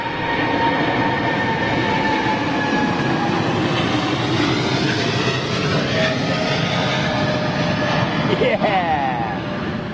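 An airliner landing at London Heathrow gives off a steady, loud roar of engine noise with a faint whine shifting through it, while voices of onlookers carry nearby.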